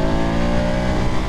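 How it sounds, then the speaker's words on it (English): A 2022 BMW F850GS Adventure motorcycle engine revs steadily near high rpm, a smooth, continuous, close-up drone with even harmonics and no audible chug, heard alone without talk. "if I roll on the engine, it's just so smooth."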